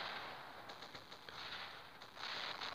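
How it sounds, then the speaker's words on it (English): Rapid bursts of Arbalest weapon fire in the robot combat game War Robots, a dense stream of shots in quick succession that swells louder near the end. "the shots that looked like the Dragoon shots"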